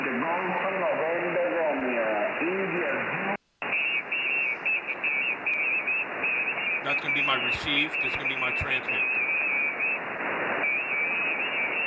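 Amateur radio receiver on an operating console, tuned with heavy QRM interference: a dense, band-limited wash of noise, warbling tones and whistles runs steadily throughout, loud and close, with someone speaking over it and one brief dropout.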